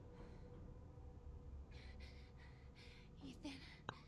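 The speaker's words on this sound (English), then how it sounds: "my dude is panting heavily" In Resident Evil 7, a character pants heavily in repeated breathy gasps, faint and rhythmic over a low game ambience, ending with a brief sharp click.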